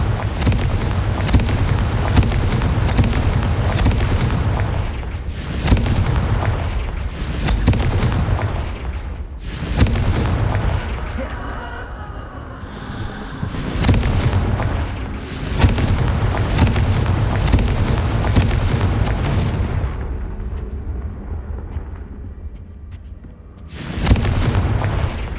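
Repeated booming spell blasts from the Confringo fire curse in the Hogwarts Legacy video game, loud, dense bursts arriving in clusters with short lulls between, no talking over them.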